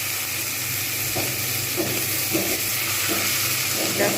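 Tomatoes and already-browned onions sizzle in a pan for a pabda fish curry. A constant frying hiss is broken by several soft, rhythmic stirring scrapes, and no one speaks.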